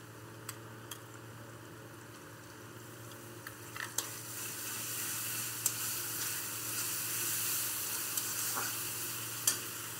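Reddish-fried onions with ginger-garlic paste sizzle steadily in a pan for a fish bhuna, a continuous hiss broken by sharp clicks and stirring scrapes.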